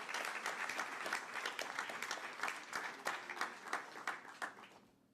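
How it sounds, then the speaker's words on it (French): Audience applause for startup contest winners at a Paris business event, a lively patter of many hands that swells and thins before fading out near the end. "j'aimerais qu'on applaudisse et qu'ils viennent nous rejoindre"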